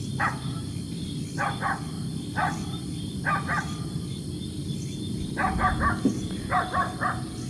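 Several dogs bark at night in short clustered bursts at a distance in a field in Malaysia, repeating irregularly over a steady outdoor hum.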